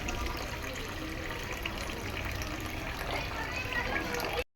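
Water poured over lentils in a bowl to wash them, a steady close trickling and splashing that runs without a break for several seconds and then cuts off.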